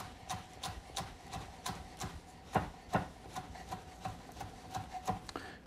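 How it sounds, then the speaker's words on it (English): A knife rough-chops mint on a cutting board, steady quick strokes up close at moderate volume, with no talking. "I'm just going to rough chop this"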